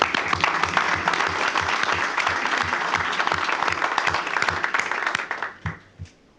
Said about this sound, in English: I think he deserves another round of applause